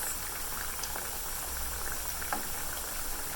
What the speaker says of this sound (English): I'm going to let these fry for about 2 more minutes